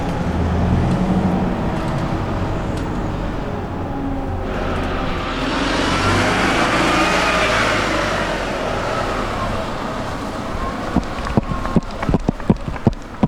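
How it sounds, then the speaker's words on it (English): A city bus pulls in on a street in Katsushika, Tokyo, its engine rumble and tyre noise swelling as it nears and passes close by, followed by a series of sharp clacks and knocks as it stops, with no talk. "But the bus is here now"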